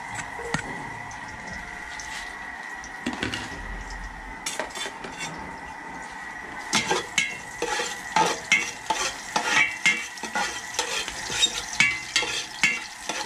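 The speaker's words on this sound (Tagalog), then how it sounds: "Pag nagigisa kasi ako, inuno ko yung bawang" Garlic fries in a pan with a light sizzle while a utensil stirs and scrapes against the metal in quick repeated strokes that grow busier and louder toward the end.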